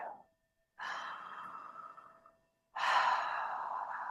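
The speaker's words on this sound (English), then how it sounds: "Allow that exhale to be a falling exhale." Two slow, audible exhales, each a long breathy rush that starts strong and trails away, separated by a short silence, close and alone.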